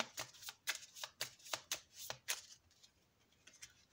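Oracle cards being shuffled by hand in a quick series of crisp riffling bursts, faint and close, tapering off toward the end without speech.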